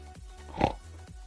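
Minecraft pigs oinking, a short grunty snort peaking in the middle with fainter oinks around it, close and fairly clear.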